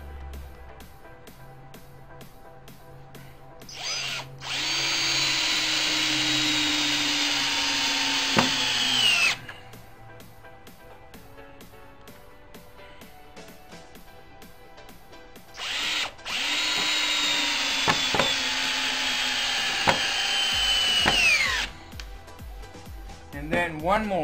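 A power drill drives 3-inch screws into wood while building a DIY bed: two long whirring runs, each about five seconds, whose pitch sags as the screw bites in, then stops abruptly, with a quiet pause between them.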